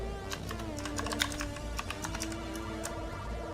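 Rapid typing on a computer keyboard, a steady run of light, closely spaced key clicks with a faint constant hum underneath, no voices.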